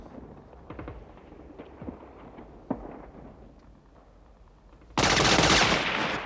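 A sniper's gunfire in the film Full Metal Jacket starts with scattered distant shots and thumps, then becomes a loud, sustained volley of rapid fire at the end.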